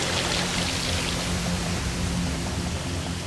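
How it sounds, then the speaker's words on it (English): Thousands of gallons of icy water pour down a water wall on an obstacle course, a steady, loud, dense rushing roar that holds unbroken throughout. "And there's not really a way to duck thousands of gallons of icy water, James."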